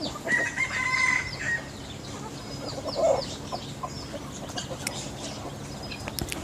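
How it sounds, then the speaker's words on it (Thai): A fighting rooster crows in a long call, then clucks in short bursts, fairly close and loud over steady outdoor background noise, with no voices. "นี่คือไก่"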